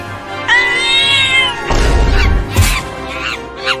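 A cat meows loudly and close up in a long drawn-out call, followed by more short meows and bursts of noisy movement.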